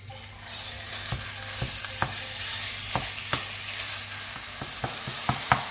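Minced meat sizzles and fries in a pan while being stirred and mashed, steady frying hiss broken by regular scraping knocks of a utensil, with a low hum underneath; no talking.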